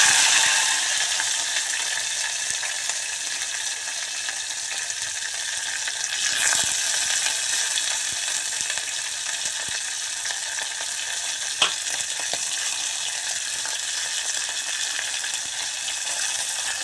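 Green chillies fry in a pan with hot oil, cumin and mustard seeds. A loud, steady sizzle runs throughout, with a brief surge near the middle and a single small clink later on.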